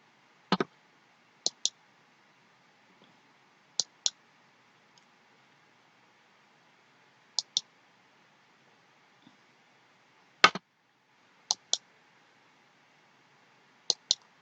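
A computer mouse clicking in a quiet office while filling in an online address form: sharp close clicks, often in quick double pairs, spaced irregularly over several seconds with silence between, and no talking.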